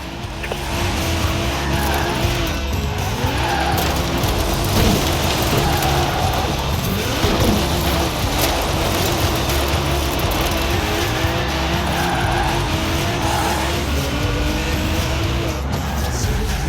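Car drifting in the racing video game Forza Horizon 4, a loud, steady engine roar with long, wavering tire squeals rising and falling across the run, continuous and close with no pauses.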